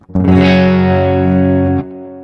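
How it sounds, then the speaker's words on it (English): A guitar chord rings out loud and sustained for over a second, harshly distorted from too much gain, with a buzzy, overdriven tone and a clear sharp attack before it cuts off. "It's almost like it's got some kind of distortion on it."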